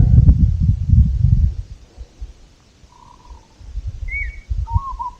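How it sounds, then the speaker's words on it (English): A few distant whistled bird calls, short and separated, over low rumbling wind-like noise, in the outback of far southwest Queensland near Thargomindah and Innamincka. "Hear that bird in the background?"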